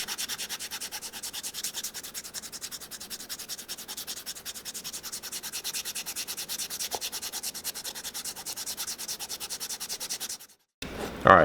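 High-grit sandpaper rubs on Ferragamo leather Jodhpur boots in fast, even back-and-forth strokes, close and steady for about ten seconds, then stops abruptly before a brief handling noise.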